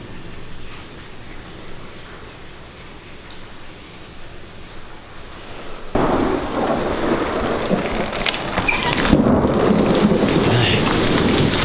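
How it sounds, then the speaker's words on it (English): Steady rain hisses throughout, growing abruptly heavier and louder midway, with a dense downpour roar filling the second half. "It's really raining now."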